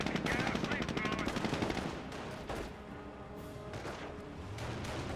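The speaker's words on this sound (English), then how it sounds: "MG42 is set on up." Rapid bursts of MG42 machine gun fire rattle in the World War II strategy game Company of Heroes, loud and sustained at first and then in shorter volleys over ongoing battle noise, with a voice talking.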